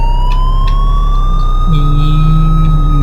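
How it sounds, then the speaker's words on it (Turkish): An ambulance siren in a driving simulator game, a loud, continuous wailing tone that rises and holds over the steady drone of the engine. "Ambulansımız yola koyuldu."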